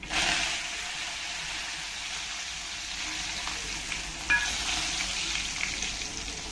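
Hot oil tempering with red chili powder and coriander for a spinach dal gives a steady, bright close-up sizzle with a small sharp crackle midway.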